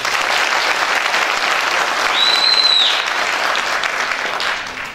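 A crowd at a candidate's evening campaign event applauds loudly and continuously, with dense, steady clapping that fills the whole stretch and only fades slightly at the end.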